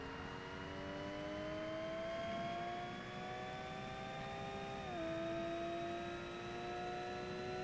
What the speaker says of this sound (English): after you get past a certain RPM, the engine noise doesn't change.